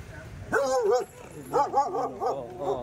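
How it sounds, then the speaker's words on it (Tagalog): Close, excited yelping barks from a dog, one long whine-like bark then a rapid run of shorter yips. "may mga alagang aso dito sa pasada"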